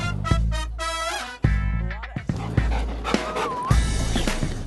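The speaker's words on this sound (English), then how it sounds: "one of the 15 or so dogs living at the Richmond Animal Protection Society, which is a no-kill shelter" A dog at a no-kill animal shelter gives several bursts of high yips and whimpering barks, close and fairly loud, with panting and faint handling noise between the calls.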